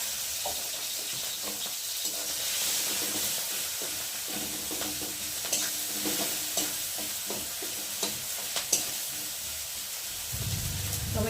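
Tomatoes frying in a pan with salt, green chillies and turmeric, a steady broadband sizzle with scraping stir strokes throughout, fairly close, easing off near the end.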